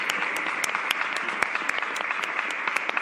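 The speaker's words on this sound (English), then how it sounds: "Another round of applause for our varsity" Sustained applause from an audience at a livestreamed awards event, dense continuous clapping at an even level with sharp individual claps standing out throughout.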